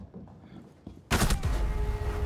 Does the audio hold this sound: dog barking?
no